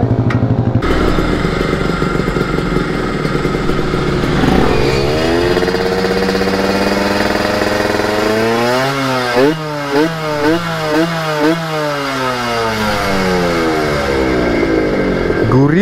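Motorcycle with wireless handlebars revving hard: a loud, rasping engine held at high revs, then a run of rising and falling throttle blips before it settles back, with no talk over it.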